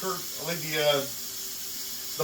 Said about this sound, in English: let me get the water going and I'll get right to that. I like to start with hot water.